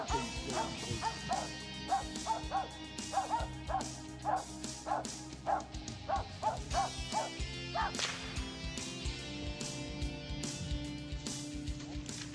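Hunting dogs bark repeatedly in a steady rapid series during a hunt, loud and nearby, then fade into scattered noise and movement outdoors.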